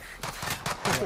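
Rapid bursts of gunfire from a competitive shooter video game crackle loudly and close in quick succession over a dense, noisy mix, with a voice partly audible underneath.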